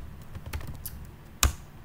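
Keystrokes from someone writing Laravel code on a computer keyboard, a few soft scattered taps followed by one sharper, louder key press, close up in a quiet room.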